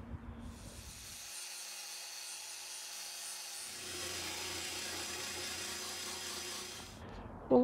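A twisted wire wheel spun by a drill grinds and scrubs paint off a Mercedes R107 steel body panel, producing a continuous close abrasive whir for about six seconds that ends with a clunk.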